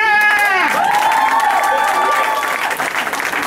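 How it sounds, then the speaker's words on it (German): Crowd at a B-boy breakdance talent show in Plochingen claps loudly and cheers, with high whistles and shouted voices sweeping over continuous, close applause. "deswegen bekommen alle einen Applaus"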